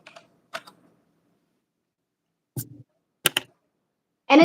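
Typing on a sideways-set computer keyboard: a few sparse, sharp key clicks in small clusters separated by silence, close and crisp, ending with a louder burst.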